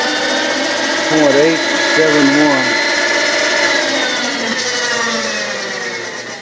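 A milling machine drills with a bit under a steady, loud motor whine that holds its pitch throughout, with a person's voice speaking briefly over it midway.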